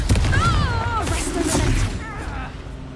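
A Confringo blasting spell goes off in Hogwarts Legacy, a booming burst under battle noise and spell effects. Whooshing, whistling magic sounds ride over the low rumble, fading over about three seconds.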